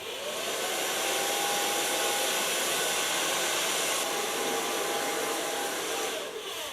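A hair dryer blows hair during a long-to-short pixie-bob haircut, a loud, steady, continuous whoosh close by with no pauses and no talking.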